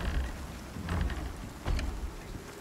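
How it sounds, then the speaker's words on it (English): In the survival game Icarus, steady rain falls and thunder rumbles low, with two heavier rolls swelling over the dense patter, heard alone at a moderate, faint level. "here's a little surprise. It's raining."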